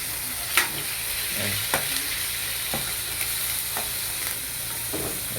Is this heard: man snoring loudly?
no